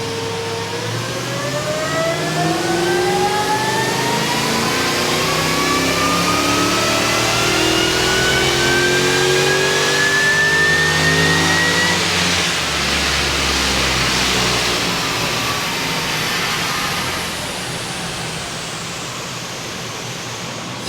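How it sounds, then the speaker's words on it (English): Supercharged 5-litre Coyote V8 in a manual Mustang GT revving hard on a dyno, one long loud pull climbing steadily in pitch before easing off, throaty roar with whine on top and no talking. "Supercharged 5 litre Coyote. It's got a bit of a tune, bit of a tickle."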